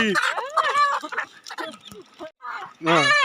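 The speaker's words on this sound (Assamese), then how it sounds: "এইফালে আছে লোকেল মুৰ্গী" Local chickens cluck and squawk close by in a lively, uneven series of calls, with a louder burst at the end.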